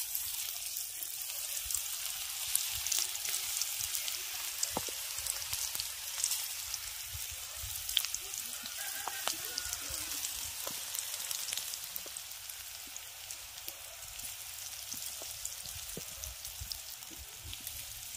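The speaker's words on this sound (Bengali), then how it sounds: "এবার কপির লাচ্ছা পকোড়াগুলো ভেজে নেব।" Shredded cabbage pakoras fry in oil with a soft, continuous sizzle and scattered light pops, fairly quiet and steady throughout.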